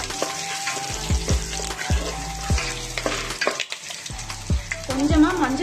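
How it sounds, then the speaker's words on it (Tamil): Curry leaves and spices fry in coconut oil for a spicy puffed-rice snack, giving a loud, steady sizzle up close, broken by repeated scraping stirs of a spoon against the pan. "எல்லாமே தேங்காய் எண்ணெயிலே நல்லா வறுத்துக்கணும்."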